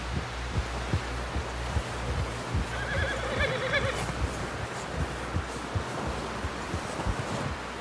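A horse in Red Dead Redemption 2 whinnies partway through over steady hoofbeats and windy outdoor noise, fairly loud and close.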